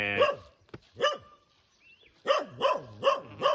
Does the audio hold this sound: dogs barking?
yes